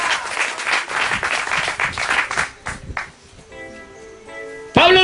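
A congregation at a church service applauds loudly and steadily for about three seconds, then fades into a quieter stretch with a voice before a louder voice bursts in near the end.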